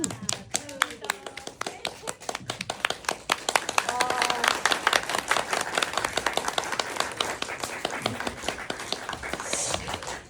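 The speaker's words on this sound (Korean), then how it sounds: "박수 부탁드릴게요." An audience claps and applauds after candles are blown out at a celebratory film screening event, a steady burst of hand claps lasting several seconds with a voice talking briefly near the start.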